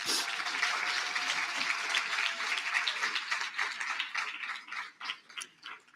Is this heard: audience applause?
yes